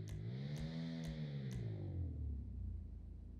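Lampadati Michelli GT in GTA 5 Online with an upgraded exhaust, revved four quick times in a row, pitch climbing on each one, then one longer drawn-out rev that sinks back down to idle.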